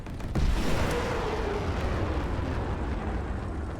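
Rocket artillery from a BM-31-12 launcher in the War Thunder game, heard as a loud, rumbling blast that gives way to a sustained roar and a low tail. No one talks over it.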